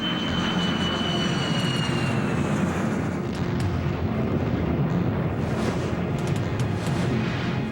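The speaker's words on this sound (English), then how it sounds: "American Airlines Flight 77 tears into the southwest face of the Pentagon at 450 miles an hour" American Airlines Flight 77, a jet airliner, approaching the Pentagon at high speed: a dense, steady low roar of aircraft engine fills the whole stretch, loud and continuous, with no speech.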